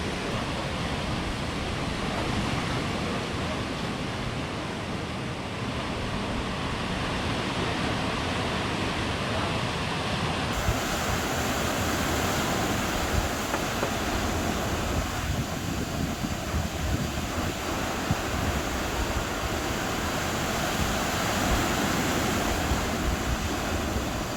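Ocean waves on Blue Lagoon beach near Padang Bai, Bali, form a steady, loud broadband wash with wind noise that holds throughout, with no voices.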